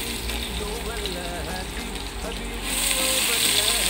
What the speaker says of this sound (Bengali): পেঁয়াজগুলো হালকা ভেজে নিচ্ছি।